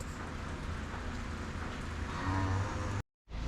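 Cattle in a freshly bedded barn, heard as a low steady livestock rumble with a moo-like drone near the end over constant background noise, then a brief cut to silence.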